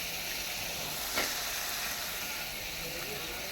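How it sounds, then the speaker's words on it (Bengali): Onion greens fry in a pan, giving a steady, even sizzle that holds close and constant throughout, with a brief stirring clatter near the middle. "পেঁয়াজের কলি ভাজি করছি"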